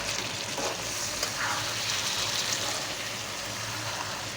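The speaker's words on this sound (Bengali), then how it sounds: "এই যে তরকারিটা ভাজা ভাজা হয়ে আসছে" Chicken bhuna fries in a pan with a steady, dense sizzle, and a spoon scrapes and stirs through it now and then, close and constant.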